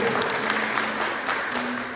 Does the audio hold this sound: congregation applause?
yes